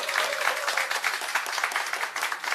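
Crowd applause welcoming People Power Party leader Kim Gi-hyeon on his visit to Chilgok County, a dense, steady burst of many hands clapping at close range with no pauses.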